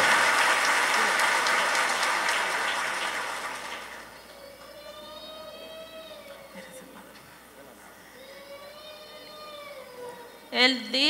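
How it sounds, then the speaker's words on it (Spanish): Congregation applause at a Catholic healing and deliverance Mass in church, a broad burst of clapping at the start that fades after a few seconds, leaving sustained tonal sounds and a brief loud peak at the end. "Ese aplauso grande, flojo."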